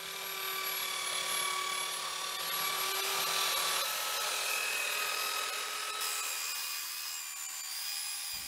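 A power sander works wood for an outdoor bench, a steady high-pitched whine with a constant rushing hiss that holds evenly and shifts slightly near the end.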